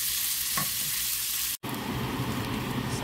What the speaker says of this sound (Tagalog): medyo lulutuin ko yung aking shrimp muna